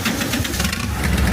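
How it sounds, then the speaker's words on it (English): A train engine rumbles close by at a railway market, a steady, loud low drone with knocking engine texture throughout and no pauses. "And you can be blasted by the engine."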